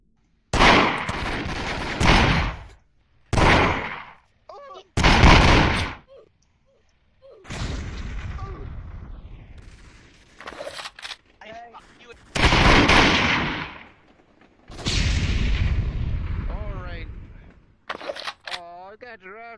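Gunfire rings out in the VRChat video game in loud, harsh bursts, some long and sustained and some short, separated by quiet gaps, with people talking between and over the shots.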